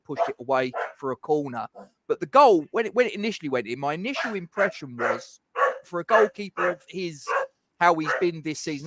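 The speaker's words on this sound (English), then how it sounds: "I do apologise for my dog barking in the background." A dog barks somewhere in a home behind someone talking continuously about football, the barks mixed into and partly masked by his voice.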